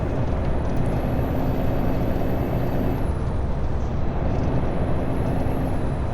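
An AI-driven truck in American Truck Simulator releases its air brakes in a loud, sustained hiss with a thin high whine rising and falling above it, continuous and close, with no talking.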